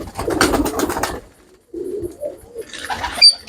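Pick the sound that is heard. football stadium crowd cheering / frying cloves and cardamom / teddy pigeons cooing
teddy pigeons cooing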